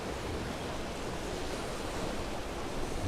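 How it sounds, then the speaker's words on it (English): A river carrying floating blocks of ice rushes steadily, a dense broadband wash of flowing water with no breaks or voices. "There's blocks of ice floating down the river."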